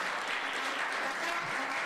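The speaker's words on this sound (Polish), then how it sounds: "Wielkie brawa." Brief, full applause from an audience at a Górnik Bytom sports club gala, an even wash of many clapping hands with no pauses.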